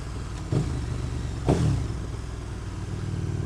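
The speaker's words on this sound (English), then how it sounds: "It is nice riding this bike though, I do like it." A KTM Superduke 1290 R motorcycle being ridden, its engine droning steadily under road and wind noise, with two brief surges around the first and second marks.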